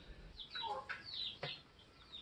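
Faint chirping and clucking calls from free-roaming chicks, quiet and somewhat distant, over low background noise.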